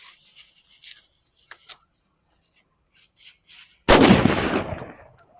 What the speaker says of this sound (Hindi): वाह भाई, काफी ज्यादा मस्त आवाज था वो वाला पटाखे का